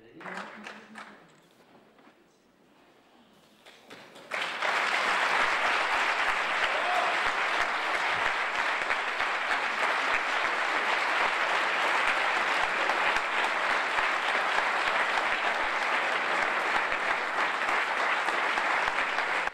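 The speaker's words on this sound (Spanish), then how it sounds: "el salón de CCM quedaba lleno de aplausos y vítores por la obra presentada" Audience applause with cheering filling the CCM hall at the Cuenca Holy Week 2013 poster presentation, a few quiet seconds then sustained dense clapping, loud and continuous.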